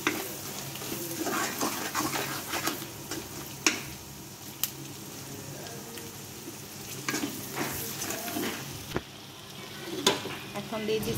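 Curry leaves frying in a pan for pasta, stirred steadily with a spatula: continuous close sizzle with scraping strokes and occasional sharp clicks of utensil against the pan.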